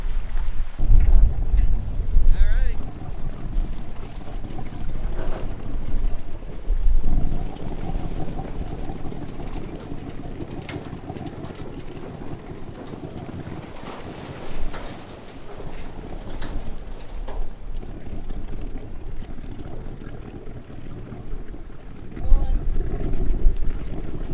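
A small boat rides on windy water, with strong wind buffeting the microphone in heavy low gusts and water and hull noise underneath. Speech is heard at times.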